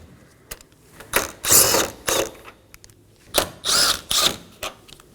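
Ratcheting wrench clicks in several short bursts while backing out the 7mm bolts that hold down a headlight on a Chevrolet Equinox, close and fairly loud, with pauses between runs.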